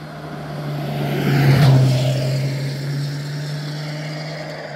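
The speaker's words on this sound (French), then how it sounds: "Écoute ça. C'est une moto." A motorcycle passes by outdoors, its steady engine drone swelling to a peak at mid-pass and then easing off gradually as it moves away.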